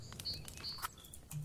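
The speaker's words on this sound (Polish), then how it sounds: "Kurde, ile tutaj tych ptaków jest." Many small birds in the survival game The Forest, chirping and tweeting in short scattered calls over a quiet, faint background.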